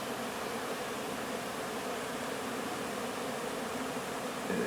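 A cloud of honeybees swarming around a hive in a yard, a constant dense buzzing drone that fills the air without a break.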